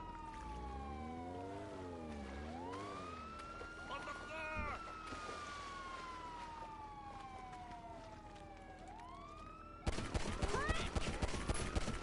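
Gunfire in the video game GTA 5 crackles in bursts alongside wailing police sirens that sweep up and down, then a loud clattering volley of shots near the end, with game noise throughout.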